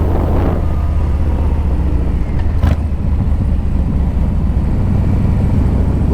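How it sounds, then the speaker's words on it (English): A motorcycle engine runs steadily close by with a low, continuous rumble and wind buffeting, and a single sharp backfire pop cuts through partway in. "Little backfire in the morning."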